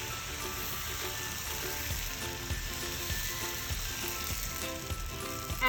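Appam batter sizzles in a coconut-oiled wok over low to medium heat, a loud, continuous crackling fry with faint stirring textures and no talking.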